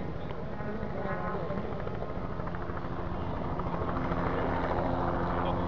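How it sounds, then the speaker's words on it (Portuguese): A rotor drone from a helicopter over a rally stage at the 2011 WRC Rally Argentina mixes with crowd noise and talk, holding at a steady level throughout. "o helicóptero da Quilmes passou aqui."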